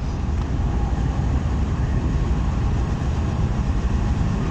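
A locomotive coupling onto the Chaman passenger train at a station on the Quetta–Chaman line, heard as a steady, loud rumble of diesel engine and rail noise throughout, with no voices.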